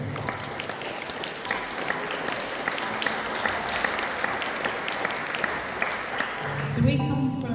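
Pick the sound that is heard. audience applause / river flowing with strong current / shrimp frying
audience applause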